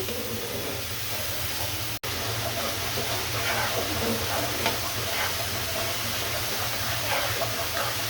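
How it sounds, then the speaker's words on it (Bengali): Spice paste for a koi fish dish frying and being stirred in a pan, a steady dense sizzle and hiss with faint scraping of the stirring throughout. "এভাবে নেড়ে চেড়ে মশলাটা ভালো মতো কষিয়ে নিতে হবে"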